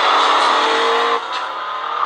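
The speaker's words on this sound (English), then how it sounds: "Crazy grandpa car." A car passes close by, a steady broadband rush that drops off sharply partway through as it moves away, leaving a quieter road hiss.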